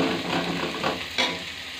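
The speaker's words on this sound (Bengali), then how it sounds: "সেটা আমি পেঁয়াজটা লাল করে নেব" Onions frying in a pan for a hilsa fish curry, a brief soft sizzle with a couple of stirring swishes, quiet and without speech.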